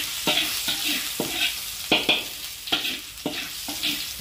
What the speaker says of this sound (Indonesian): Kita tumis bawang putih sampai harum ya.